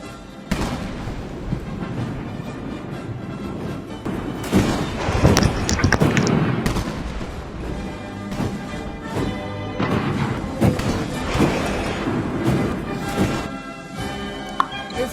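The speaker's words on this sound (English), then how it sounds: "So kicking off the spectacle was an 80-gun salute." An 80-gun artillery salute opens a large Chinese military parade, with repeated booming blasts rolling out over a busy outdoor crowd ambience.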